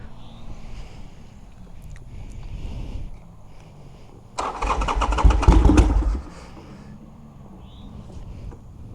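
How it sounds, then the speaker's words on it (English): A Harley-Davidson Sportster with a 1275 kit being cold started: about two seconds of loud, close starter cranking and churning rumble that cuts off without the engine catching, with quiet before and after. "Let me give you guys a cold start of this bike."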